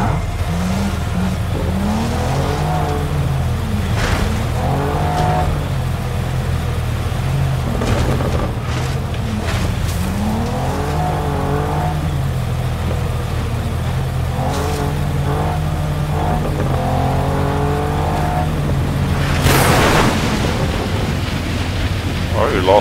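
A bomb car driving and flying in the Just Cause 3 video game, a continuous engine roar with rising and falling revs under steady wind-like rush, while a person talks intermittently throughout.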